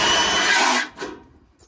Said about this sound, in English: Let's do another cut with our automatic bandsaw.